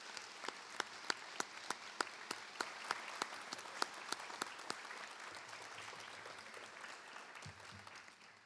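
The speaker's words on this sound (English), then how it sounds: "Let's give these coaches a round of applause as well." A small, scattered round of applause for coaches at a school board meeting. Individual claps ring out distinctly and quietly, thinning out toward the end.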